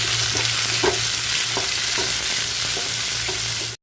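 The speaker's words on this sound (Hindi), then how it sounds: "हम लोग डालेंगे कैप्सिकम और ऑनियन का जो मिक्स हम लोग ने काटा है, इसको हम लोग थोड़ा फ्राई करेंगे, क्रिस्पी फ्राई" Chopped capsicum and onion frying crisply in a pan, a steady loud sizzle with stirring scrapes recurring roughly every half second, close and continuous before cutting off abruptly.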